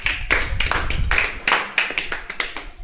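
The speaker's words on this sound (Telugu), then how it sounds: "క్లాప్స్." Children in a classroom clap their hands together in a quick, uneven burst of many overlapping claps, close and fairly loud, with no talk.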